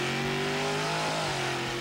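A drag racing car engine revs hard, a loud sustained droning roar with steady harmonic tones that shift slightly in pitch over the short span.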